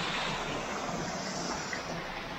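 Water pours down steadily from a height at a waterfall in the Nuwara Eliya hills of Sri Lanka, a continuous broadband rush with no voices over it.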